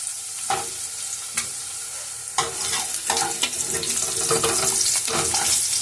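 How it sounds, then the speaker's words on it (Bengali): Potatoes sizzle and crackle as they fry in oil left over from frying fish, with steady hissing broken by stirring clinks and a few louder pops, close and continuous throughout. "এই মাছ ভাজার তেলেই আমি আলু আর বেগুনটা ভেজে নেব।"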